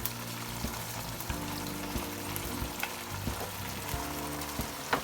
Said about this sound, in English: To this I'm going to add the garlic and ginger paste.